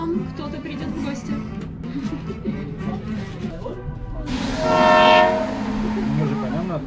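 A scenic passenger train runs through a Colorado canyon, with wheels rumbling and clattering steadily, then a loud sustained horn blast in the middle before the rolling rumble continues, while people talk quietly nearby.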